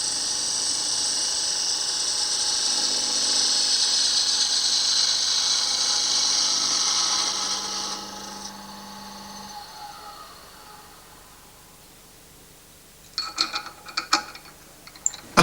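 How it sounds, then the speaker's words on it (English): A fluted parting tool cuts through the midsection of a wooden piece held in a lathe chuck, giving a steady, loud scraping whir for about eight seconds that fades away, followed later by a few sharp clicks. "part through the midsection. A fluted parting tool is to be used for this"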